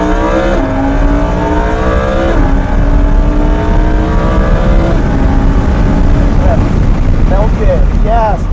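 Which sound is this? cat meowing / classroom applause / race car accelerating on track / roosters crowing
race car accelerating on track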